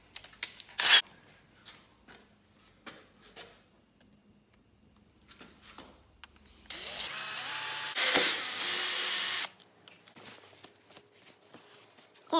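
A power drill bores holes in a brake caliper in a workshop, sounding as one loud whirring burst of several seconds with a brief higher peak, set between quieter clicks and handling noises.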